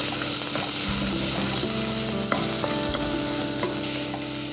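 Onions frying in a pan are stirred, giving a steady, loud sizzle with a few scraping strokes over roughly four seconds, with no talking.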